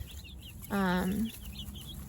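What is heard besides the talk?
Freedom Ranger meat chickens clucking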